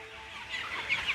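A hen being petted for the first time gives a short burst of soft, contented clucks, close and fairly quiet over a low background hum, lasting about a second.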